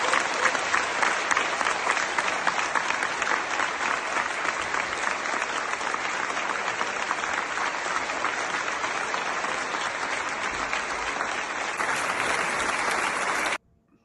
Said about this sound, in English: here's a video of them cheering